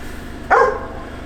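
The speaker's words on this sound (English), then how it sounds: "Sorry about that dog" A single sharp dog bark sounds nearby during a 2021 Alfa Romeo Giulia car review, a short loud burst over quiet background.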